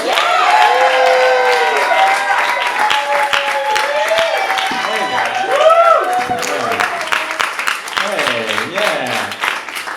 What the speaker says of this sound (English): Give me a round of applause for Will Kean